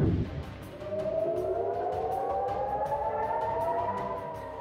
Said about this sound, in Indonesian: Sirine peringatan berbunyi di kota-kota Israel Utara